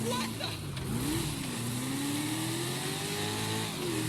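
A car engine in the video game GTA 5 drones steadily as the car drives and revs, with the pitch rising and falling as it shifts. The engine is loud and continuous, and a voice talks over it at times.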